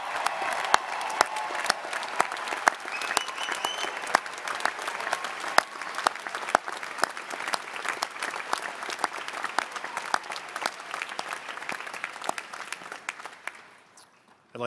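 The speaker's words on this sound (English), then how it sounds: "let's have one more hearty round of applause for the students" A large audience at a White Coat Ceremony applauds steadily for over ten seconds, dense clapping that tapers off at the end.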